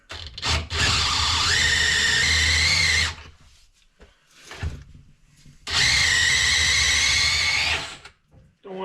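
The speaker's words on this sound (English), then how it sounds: "Gonna bore it out a little bit here." A power drill bores out a hole in a tractor part: two long, steady whining bursts with a high squeal, separated by a quiet pause with a few brief knocks.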